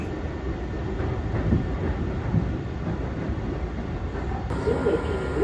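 Limited express train in Japan running along the track, a steady rumbling roll with faint rhythmic clatter heard from inside the car, continuous and moderately loud with no talking.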